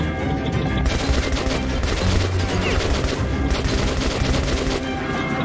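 Rapid, dense gunfire in the shooter game Metro 2033 Redux, close and loud, with volleys of shots rattling on without pause throughout.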